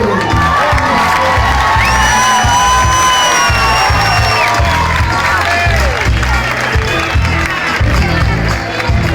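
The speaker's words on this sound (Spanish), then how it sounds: "Otro aplauso para" Loud, dense cheering and applause from an audience at a concert in Sala Río, Vigo, with high whoops and sustained yells over steady clapping that thins slightly toward the end.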